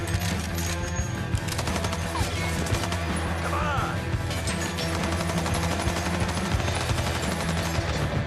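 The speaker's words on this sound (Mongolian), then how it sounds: "Томи бүрэн автомат буу гаргаж ирээд шүршиж орхино" A fully automatic gun sprays sustained rapid fire in a Peaky Blinders film scene, a dense continuous burst layered with crashes and music.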